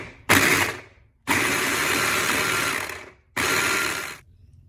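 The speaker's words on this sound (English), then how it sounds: "and then you will start to blend." A kitchen blender chops short pieces of fungus strip mushrooms in three bursts, one short, one long and one medium, with loud whirring and rattling close by and pauses of quiet between.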